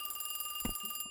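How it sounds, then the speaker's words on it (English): A telephone in a haunted-house video game rings with a fast, steady electronic trill, loud and continuous before cutting off, a short thud landing in the middle. "I have a very loud phone. I should probably go answer it."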